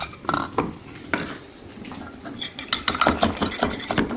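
Spices with turmeric stirred and fried in a pan, a spoon scraping and clinking against the metal in irregular strokes over a soft sizzle, close and moderately loud.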